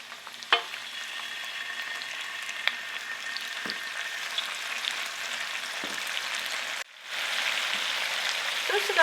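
Sauce poured into a hot pan for home party food sizzles and bubbles in a steady, close, dense hiss that dips briefly before resuming, with no talking.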